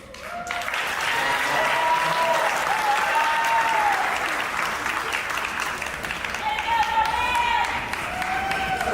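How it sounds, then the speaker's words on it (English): An audience at a startup pitch competition breaks into loud, continuous applause, with a few raised voices and cheers ringing over the dense clapping throughout. "Round of applause"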